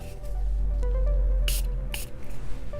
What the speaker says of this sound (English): spraying it with some setting spray